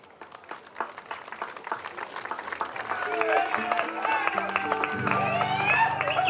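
An audience at a Slovenian school carnival (fašenk) event claps for a third-grade class, starting as scattered claps and swelling into fuller applause, with voices and music rising underneath toward the end.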